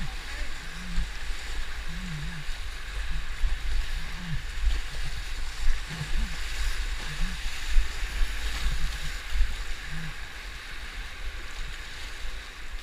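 Canoe paddling on the Moira River in spring, with steady water and wind wash, soft paddle strokes and splashes at irregular intervals, and voices talking faintly now and then.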